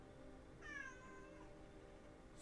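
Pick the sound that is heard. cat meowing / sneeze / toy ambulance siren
cat meowing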